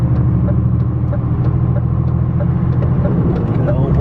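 Low rumbling of vehicle engines on a road, a continuous traffic drone with a voice faintly talking over it.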